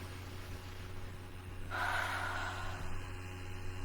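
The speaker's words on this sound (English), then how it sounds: "take a nice deep breath" One deep breath drawn through the mouth rises as a soft, airy inhale lasting under a second, close to the microphone over a steady low electrical hum.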